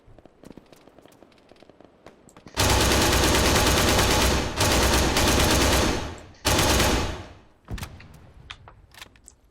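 Gunfire in Arma 3 erupts as loud, sustained automatic bursts after a quieter start, pausing briefly twice before a final burst and a few scattered shots trailing off.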